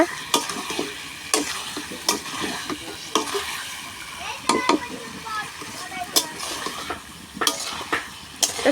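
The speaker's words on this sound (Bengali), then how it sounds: "এবার দিয়ে নাড়ব ভালো করে নেড়ে চেড়ে" Chicken pieces rubbed with turmeric and salt are stirred in a pot over a clay stove. A utensil scrapes and knocks against the pot in uneven strokes above a soft frying sizzle, heard close.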